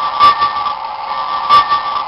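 A model logging locomotive's sound system rings its new bell with two distinct bright strikes, over a second apart, above a steady background drone.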